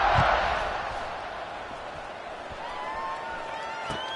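A football stadium crowd roars in a broad, sustained wash of cheering that swells at the start and then holds steady, with a few whistles rising above the noise.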